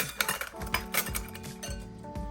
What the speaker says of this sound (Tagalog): ipatuloy lang natin ang paghahalo